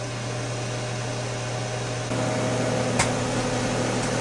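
A Ninja Foodi Deluxe cooking stuffed pork chops at 375 degrees gives off a steady, close fan-driven whir, with a slight step up in loudness partway through and a brief click near the end.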